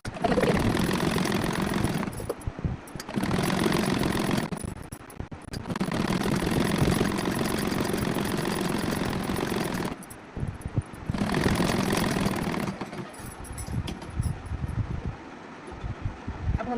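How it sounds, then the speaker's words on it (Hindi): A sewing machine runs loudly in long bursts while stitching the side seams of an umbrella suit, with a steady motor whir broken by several brief pauses between runs. "अब यहाँ से पूरे में सिलाई लगा लेंगे साइड साइड में।"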